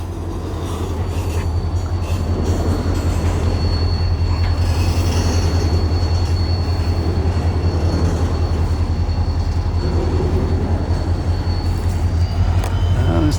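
Freight train locomotive throttling up at a railroad crossing in Plant City, Florida, heard as a loud continuous engine rumble with rolling wagons and a thin squeal of wheels, building steadily and close by.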